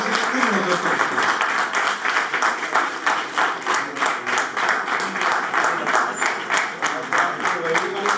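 Sustained audience applause at a mehfil-e-mushaira poetry gathering in a public library, a dense, steady wash of many hands clapping, loud and continuous throughout.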